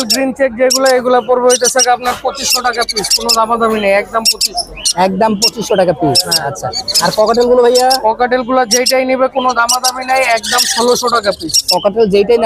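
Many caged birds at the Mirpur 13 Bottola bird market in Dhaka squawk and chirp continuously and loudly at close range, a dense overlapping chorus with voices faintly mixed in.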